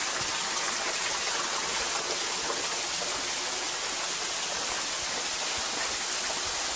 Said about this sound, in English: There's some water squirting out there.